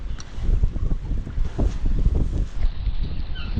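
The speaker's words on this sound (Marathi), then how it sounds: "तर हवा खूप आहे" Strong seaside wind at Devgad on the Konkan coast buffets the microphone in loud, continuous gusts and rumbles, with no other sounds standing out.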